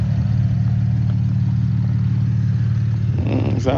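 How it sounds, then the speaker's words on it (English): A V6 Camaro engine idles with a misfire, a steady low rumble with an uneven pulse that runs close and loud throughout, and a brief voice and clatter near the end. "I don't like how that shit idling though. Sound like it got a miss to it."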